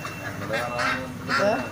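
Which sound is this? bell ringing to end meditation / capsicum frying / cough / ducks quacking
ducks quacking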